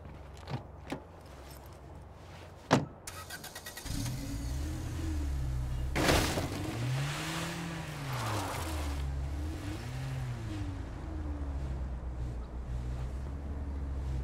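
A car in the video game State of Decay 2 is entered with a few door and key clicks, then its engine starts and hums with rising and falling revs as it drives, steady and fairly quiet, with no talking.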